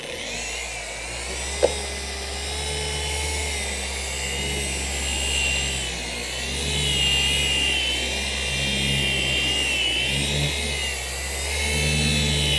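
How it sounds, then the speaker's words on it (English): A car polisher runs steadily on heavily neglected black paint, a continuous mid-pitched motor drone with slight swells in load and one brief sharp tap early on, with no talking. "So the polisher is going to be on a certain speed with certain pressure."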